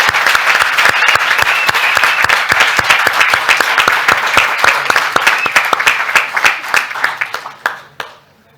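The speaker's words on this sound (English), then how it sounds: "please give us an enthusiastic round of applause now" Enthusiastic audience applause at a youth health event, loud and dense with many hands clapping at once, then thinning into scattered claps before it dies away.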